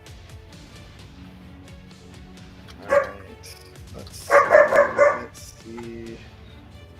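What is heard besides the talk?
dog barking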